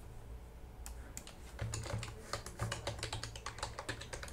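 Rapid typing on a computer keyboard, a steady run of light key clicks heard close up and alone, with no talk over it.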